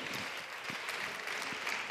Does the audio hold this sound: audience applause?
yes